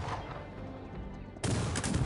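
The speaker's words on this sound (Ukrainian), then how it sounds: "Давайте, хлопці. Стріляємо їх." Musket gunfire from a Cossacks 3 battle, scattered crackling shots that suddenly erupt into a loud, dense volley partway through, with no talking over it.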